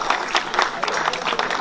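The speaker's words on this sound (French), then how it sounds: "nous pouvons l'applaudir" A short burst of audience clapping at a French association's tenth-anniversary celebration, honoring a former committee secretary. A moderate, steady patter of many hands with slight swells, continuous throughout.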